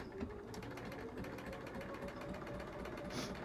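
Sewing machine running steadily while straight-line quilting and tacking down with a ruler, a continuous mechanical hum with a faint rattle throughout, fairly quiet and without talk.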